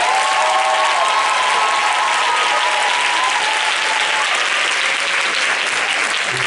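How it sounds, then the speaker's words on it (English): A church congregation standing for an evening service bursts into loud, sustained applause, a thick continuous roar of clapping with some cheering voices and a whistle-like tone riding over it. "I want you to do better than give these folks a thunderous applause."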